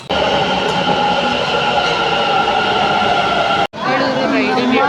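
A Bengaluru metro train at a busy station produces a loud, steady rumble with a high tonal whine, broken by a brief sudden drop near the end, while voices talk nearby.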